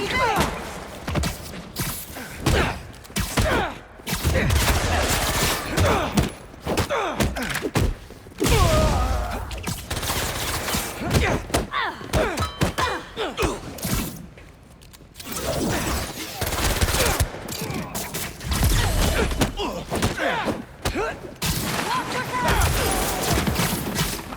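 Chaotic gunfire and combat in Marvel's Spider-Man 2 while clearing out a restaurant, dense bursts of shots, thuds and crashes, with voices shouting over the loud action.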